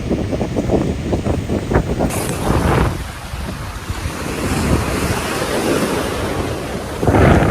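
Ocean waves surge and wash in steadily at a beach in Dubai at sunset, a loud rolling roar of surf nearby, mixed with wind blowing over the microphone.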